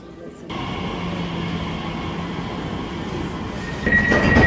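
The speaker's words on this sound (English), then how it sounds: "This is the first time popped on a Lizzie line train." Elizabeth line train in London heard from inside a carriage, with a steady rumbling hum that swells a little louder near the end and no talk over it.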